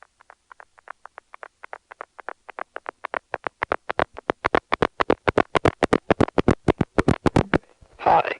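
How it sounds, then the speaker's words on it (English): A long series of sharp clicks speeds up and grows louder, relays in an ad infinitum telephone bridge stack tripping in a rapid cascade as it drops, ending in a brief burst of noise. "That's the sound of an ad infinitum bridge stack dropping."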